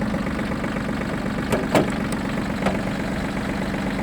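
An ISEKI SIAL19 Japanese mini tractor moves off forward, its small engine running at a steady idle-like chug with a few brief clunks and rattles over the top.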